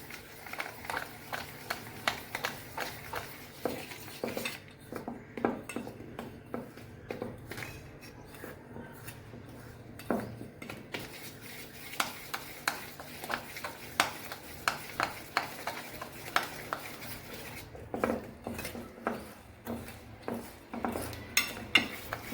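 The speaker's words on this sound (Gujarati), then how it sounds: "હવે આપણે બધા ઇન્ગ્રેડિયન્ટ્સને મિક્સ કરી લઈશું." A spoon or whisk stirs carrot cake ingredients together in a bowl, making steady clinks and scrapes against the sides in an irregular rhythm that carries on throughout, close by and moderately loud.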